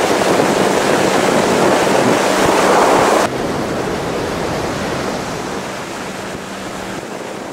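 Ocean waves wash continuously onto a Costa Rican beach at dawn near Tortuga Lodge. A dense, steady surf roar fills the scene, loud at first and then slightly softer, with no voices.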